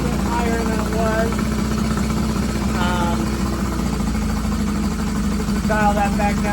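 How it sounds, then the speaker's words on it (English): Honda CB500F motorcycle engine idling steadily nearby, a constant low rumble that runs the whole time, with faint chirpy sounds in the background. "Bike is still running good. Maybe idling a little bit higher than it was."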